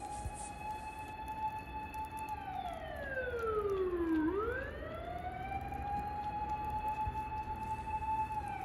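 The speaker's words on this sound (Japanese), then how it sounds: "消防車やパトカーがやってきました。" Fire engine and police car sirens wail at a riverside campsite in Kasagi, Kyoto, with a steady tone that sweeps down and back up once, heard from some distance and fairly faint.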